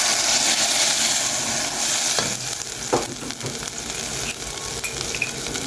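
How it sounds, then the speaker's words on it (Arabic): Garlic frying in a pan for Egyptian koshary sauce, with a loud, steady sizzle that surges as vinegar is poured in; close and continuous, with occasional clinks of a spoon. "هنزل بنص كوبايه خل، نص كوبايه خل يا بنات"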